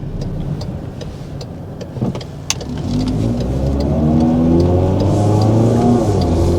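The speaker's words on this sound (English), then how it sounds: "You may be able to hear a little bit more noise from the transmission." An MG3 1.5L hatchback with a 4-speed automatic accelerates hard, its engine climbing in a steady, loud drone from inside the cabin, with a faint transmission whine layered over the rising revs.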